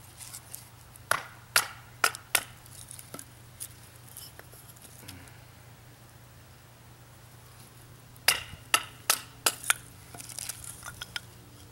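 A Bark River Bravo 1.5 knife is used to split a piece of wood for a hearth board, giving two bursts of sharp, close knocks and cracks separated by a quiet pause.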